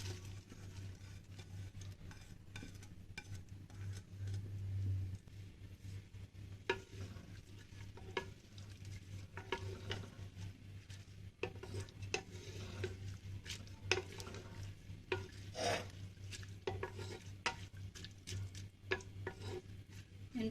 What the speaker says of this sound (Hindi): अब इसमें 3 से 4 बड़े साइज की स्लाइस प्याज के कटे हुए डालेंगे